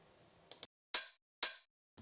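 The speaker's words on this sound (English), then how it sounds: "so hi-hats" Open hi-hats in a house track, two bright sizzling hits each ringing briefly, preceded by a couple of faint ticks and followed by another at the end, alone without talk.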